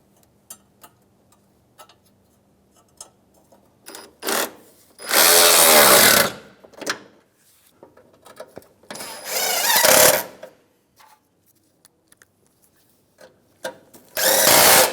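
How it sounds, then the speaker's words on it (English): Power tool driving a 10mm bolt into the side of a 2007-2013 Acura MDX during a headlight replacement, three loud whirring bursts of a few seconds each, separated by small clicks and handling taps. "We're going to now put our 10mm bolt in on the side."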